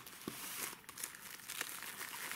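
Plastic plant-growing bags crinkle and rustle steadily as they are folded and stacked indoors, a close, continuous crackling with no one talking.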